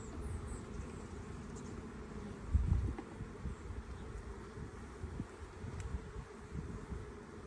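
Honey bees buzzing in an open hive during an inspection, a steady low droning hum that stays even throughout, with a brief louder thump near the middle and no talking.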